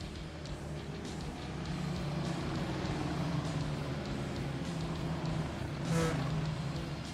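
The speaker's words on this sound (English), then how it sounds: "iRacing pace car going to take an additional lap." A pace car's engine drones steadily as it laps the Milwaukee Mile in the iRacing game, a constant mid-level hum with a slight swell near the end.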